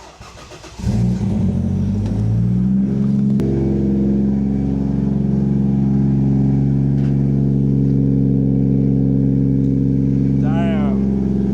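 Stock 2.5 litre 1JZ inline-6 in a Nissan Cefiro A31 cranks and fires, then settles into a loud, steady, even idle close to the listener, with one brief higher sweep near the end.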